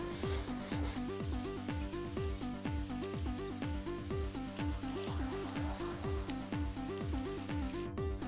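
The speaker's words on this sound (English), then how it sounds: "here I have 1000 grit sandpaper. So I'll moisten it, and then we'll sand the mirror" Steady rhythmic rubbing of moistened 1000-grit sandpaper on a hard surface, wet sanding continuous and close, with repeated back-and-forth strokes and no talking.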